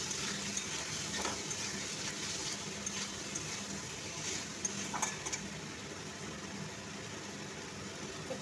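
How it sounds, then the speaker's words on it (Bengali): Fried cauliflower is stirred into a thick, well-cooked curry masala in a pan: a steady, close sizzle runs throughout, broken by a few soft scraping clicks from the spoon, with no talking. "এই ফুলকপিটা এর মধ্যে দিয়ে দেবো, দিয়ে আবার নেড়ে চেড়ে দেবো"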